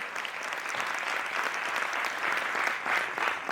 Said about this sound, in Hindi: तालियां बहुत कमजोर कर दी आप लोगों ने